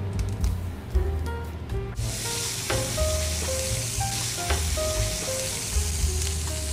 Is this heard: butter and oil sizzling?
yes